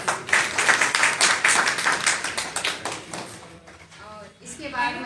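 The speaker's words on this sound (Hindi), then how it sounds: "इनके लिए जोरदार तालियां बजाइए" Audience applause at a Hindi satire book launch, a burst of clapping that fades after about three seconds while a voice talks over and after it.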